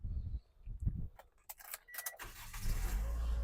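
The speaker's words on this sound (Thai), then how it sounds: "สตาร์ททีเดียวติดครับผม" A 2011 Toyota Altis 1.6G engine cranks briefly and catches on the first try, settling into a steady idle rumble after a few clicks, close by.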